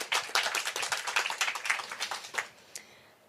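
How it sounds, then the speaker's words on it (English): Live podcast event audience on stage at a Hong Kong literary festival bursts into dense applause for about two and a half seconds, then it fades out to a lone final clap. "Applause for Juhi"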